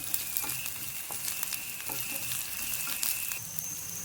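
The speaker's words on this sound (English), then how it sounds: "Adding onions now and saute it" Onions sautéing with ginger and garlic in a pan, a faint steady sizzle with soft scattered stirring clicks and a thin background whine, no voices.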